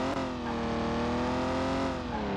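A stock BMW M4 accelerates hard down a speed track in Car Mechanic Simulator 2021, its engine note climbing steadily in pitch as a loud, continuous rising drone with a brief dip near the end.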